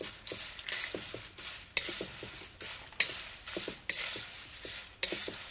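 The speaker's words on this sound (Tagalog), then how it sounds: "I-toast lang ito natin saglit" Dried chili peppers toasting briefly in a pan, a steady soft sizzle broken by repeated stirring scrapes and light clinks at a regular rhythm, close and fairly quiet, with no talking.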